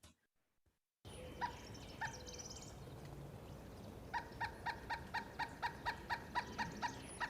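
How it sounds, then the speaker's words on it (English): A recorded pileated woodpecker calls: first a few isolated notes, then a rapid run of loud, evenly spaced piping notes that carries on steadily to the end. "And then here's the pileated woodpecker."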